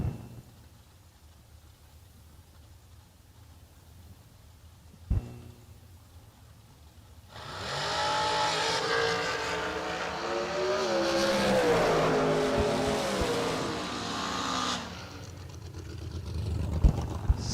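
Drag race cars launching and roaring down the track at a professional drag racing season opener, a loud sustained engine blast rising after a quieter stretch with an earlier sharp bang, then cutting off near the end.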